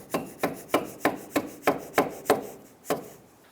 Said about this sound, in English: I have to give that a couple taps.